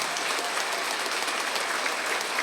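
Audience applause at an awards ceremony, dense continuous clapping from a large crowd, loud and even throughout with no pauses.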